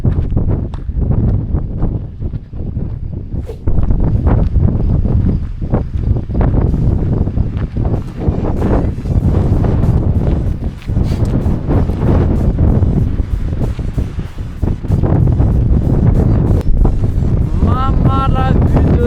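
Strong, loud wind buffets the microphone in continuous rough gusts at a mountain pass in the Cézallier highlands, with no letup and a brief faint tonal chirp near the end.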